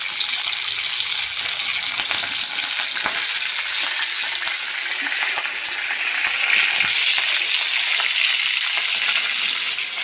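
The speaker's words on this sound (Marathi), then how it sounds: "राई तडतडून द्यायची" Mustard seeds and curry leaves spluttering in hot oil while tempering chana dal amti, a steady dense crackling sizzle throughout, close and fairly loud, with no voices.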